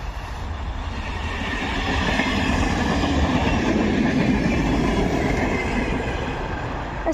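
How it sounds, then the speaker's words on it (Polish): An intercity passenger train (TLK Sudety from Kraków) rumbles past close by at Katowice Zawodzie in winter, a steady loud roar of wheels on rails with faint clacking and squeal, swelling slightly mid-pass. "Mamy kolejny pociąg Intercity, a dokładnie TLK Sudety z Krakowa"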